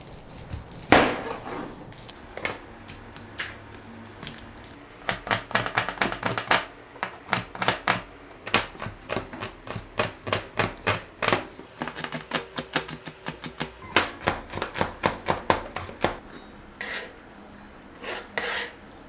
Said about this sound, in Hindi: अब मैं मगज़ के लिए जो मसाला बनाऊँगी उसके लिए प्याज चॉप करूँगी।